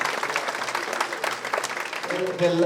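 Audience applause for five award winners at a lifetime achievement award ceremony, a steady broad clatter of many hands lasting throughout, with a voice rising near the end.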